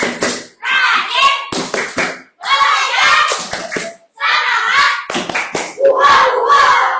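Grade 4B schoolchildren in a classroom perform their class clapping chant, rhythmic hand claps mixed with loud children's voices chanting together, close and energetic throughout.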